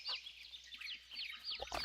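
Chickens cluck in Farming Simulator 22, a quick run of soft, chattering farmyard clucks heard alone and fairly quiet.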